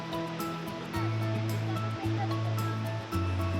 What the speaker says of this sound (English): Phe Phe is the most beautiful waterfall that we have seen till now.